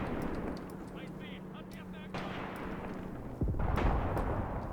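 Mortar fire in the WWII tactical video game Graviteam Tactics, heard as a dull boom rising over steady battlefield ambience, with a person talking alongside.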